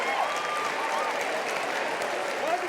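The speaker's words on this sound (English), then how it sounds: "Oregon State fans starting to cheer on the Beaver offense." Oregon State fans at a college baseball game against UNLV applaud and cheer for the Beaver offense, a steady wash of clapping and crowd noise with a few whistles, continuous and moderately loud.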